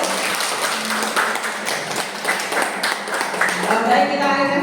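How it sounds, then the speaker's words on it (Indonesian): A school audience at a junior high school gathering claps for a group that has just finished its presentation. The applause is steady and moderately loud, mixed with voices talking throughout. "Tepuk tangannya dulu"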